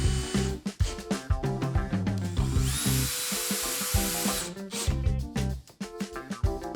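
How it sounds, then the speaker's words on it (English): A power drill bores pilot holes and drives screws into a pocket door hanger plate, with a sustained motor whine in the middle between shorter bursts of knocking and rattling. "Then I'll align the plate with the center line, drill pilot holes,"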